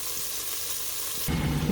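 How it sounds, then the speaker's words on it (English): Butter melting in a warm pot for lasagna, a soft steady sizzle that grows louder and busier near the end. "First, we are going to warm our pot. Melt the butter."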